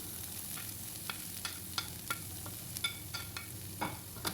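Onion, curry leaves and cut drumstick pieces fry in a pan with a faint, quiet sizzle, punctuated by sharp clicks and scrapes of a spoon stirring at irregular intervals.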